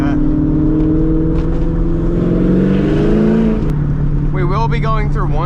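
A cammed C5 Corvette with straight pipes, heard from inside while driving, drones loudly and rises in pitch as it accelerates, then a gear change drops the note before it climbs again, with a voice briefly audible over it.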